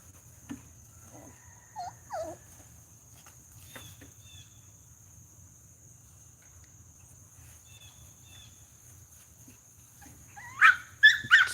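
A young puppy gives a few short, faint whimpers and whines, followed by sharper yelps or barks near the end, over a steady chirping of crickets in a quiet room.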